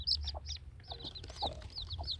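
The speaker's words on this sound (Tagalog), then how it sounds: "Gaganda ng mga chicks niya" Hens and newly hatched chicks in a small backyard coop, a hen clucking low while chicks peep in quick high chirps, close and fairly faint, with no talking.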